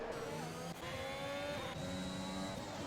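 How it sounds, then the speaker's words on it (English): Race car engines in a racing video game during an Azerbaijan Grand Prix league race, a sustained high-revving whine with shifting tonal pitch, cars passing close and continuous, without talk. "Ekim trying to get past Artanis"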